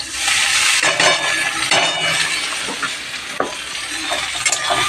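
Eggplant pieces hit a pan of onions and chilies frying until reddish, then get stirred: steady loud sizzling throughout, with scraping strokes and light clinks of a spatula against the pan, no voices.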